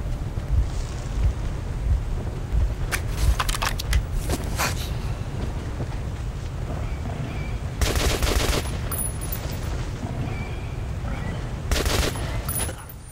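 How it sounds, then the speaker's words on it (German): Gunfire aimed at the player in the video game Metro: Last Light comes in several sharp bursts of rapid shots spread across the clip, loud over a constant windy rumble. "Was schießt denn da auf mich?"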